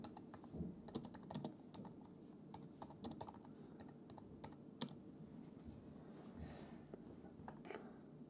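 Fast typing on a computer keyboard, entering text into a text frame in Affinity Designer, irregular bursts of light clicky keystrokes, close and fairly quiet.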